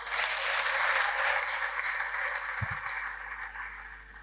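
A church congregation claps during a sermon: a steady, even wash of clapping at moderate level that slowly softens toward the end, with no talk over it.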